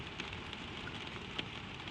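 Steady, soft patter of rain drumming on a tin roof, a continuous even hiss with occasional sharper drops standing out.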